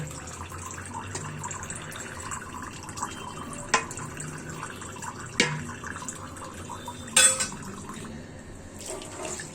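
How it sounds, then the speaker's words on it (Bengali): A small amount of water trickles and splashes onto meat and potatoes amid handling noises, with a few brief louder drips and clinks. "সামান্য একটু পানি অ্যাড করে দিচ্ছি"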